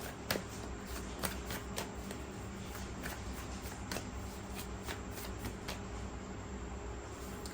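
Tarot cards being shuffled, a steady papery riffle with repeated sharp flicks and taps running throughout, moderately close and with no talking over it.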